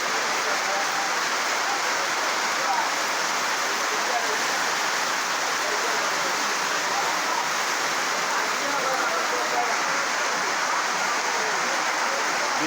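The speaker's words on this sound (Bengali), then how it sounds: "আমাদের ভেলাবাড়িতে এখন অনেক ভারী বৃষ্টি হইতেছে" Heavy rain with a light wind pours down steadily over an open market in Bhelabari, a dense, even roar that never lets up.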